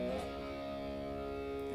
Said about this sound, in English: you're sliding that from C5 to D5